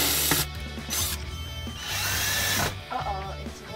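Power drill whirring through a wall to mount a pink hook for a Barbie kitchen, with several loud bursts of spinning and grinding separated by short pauses, close up.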